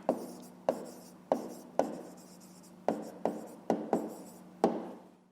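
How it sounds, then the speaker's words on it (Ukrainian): A pen taps and scratches across paper while an answer is written out, with about nine short, sharp strokes at uneven intervals, close and fairly quiet, with no speech. "Записуємо відповідь."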